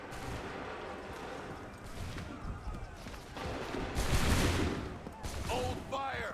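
Video game gunfire crackles in dense volleys beneath shouted commands, swelling into a heavy, loud burst near the end.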